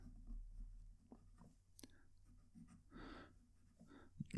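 A Delike New Moon 2 fountain pen with a fine nib writing on paper, faint soft scratching strokes with short pauses, quiet and close against a low background hum.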